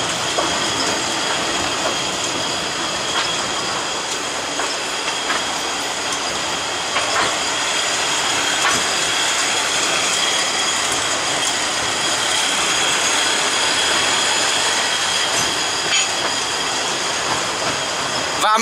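The Mocănița narrow-gauge train arrives at Covasna with a steady, loud rolling rumble and clatter of wheels on rails, the carriages grinding along with faint squeals throughout and no clear talking above it.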